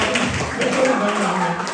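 A congregation at a church retreat sermon claps together, a brisk, dense patter of many hands with voices mixed in.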